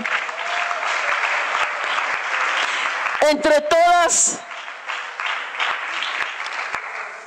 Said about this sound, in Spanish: Démosle un aplauso al Señor en esta hora.